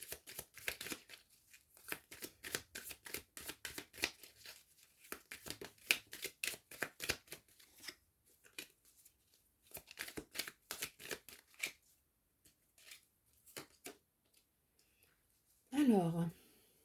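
Oracle cards are shuffled and drawn by hand in rapid, crisp riffling bursts, close and fairly quiet, pausing now and then, with a brief voice near the end.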